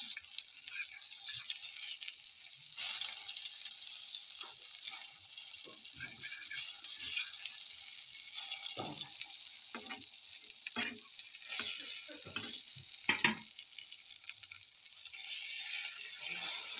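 Tortang talong, a Filipino eggplant omelette, sizzles steadily in a frying pan, with intermittent scraping and stirring sounds and a few soft clinks from handling in the foreground.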